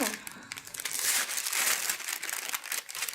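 A sterile field drape package is opened, giving loud continuous crinkling and crackling of paper and plastic wrapping, close up, with a voice speaking over it.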